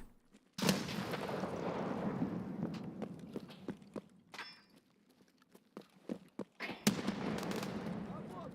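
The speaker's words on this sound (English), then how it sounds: "Who's over here chucking grenades?" Grenade explosions in Escape From Tarkov: two loud, sharp blasts several seconds apart, each followed by a rumbling tail, with scattered clicks and footstep-like taps between them.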